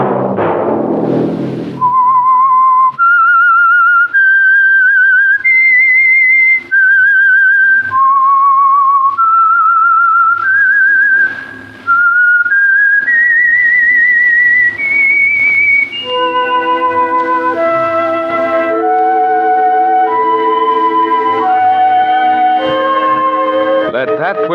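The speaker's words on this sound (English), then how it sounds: "That whistle be your signal for the Signal Oil program" The whistled theme of the old-time Signal Oil radio program The Whistler: a loud, clear melody of sliding, sustained notes plays alone, then continues over soft instrumental backing for the last several seconds.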